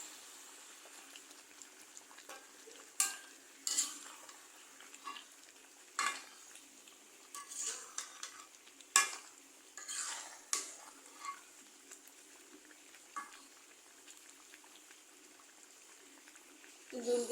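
Beef and potato curry stirred in a pot: intermittent scraping and clinking strokes of a spoon against the pot, fairly quiet, with a soft sizzle between them.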